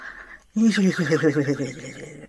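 A person imitates a horse about to whinny, shaking the face and loosening the lips in a fluttering, whinny-like vocal burst that starts after a short quiet gap and carries on for nearly two seconds, close and fairly loud.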